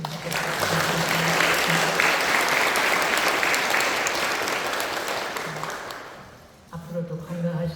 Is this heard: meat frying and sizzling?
no